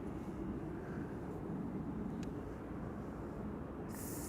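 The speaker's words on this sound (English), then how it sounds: "I'm also hearing a helicopter from behind." A helicopter near Amsterdam Schiphol Airport gives off a steady, distant broadband rumble throughout, faint and continuous with no talking.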